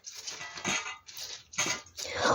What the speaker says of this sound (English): Now, you just need to mix cabbage with yangnyeom, like this.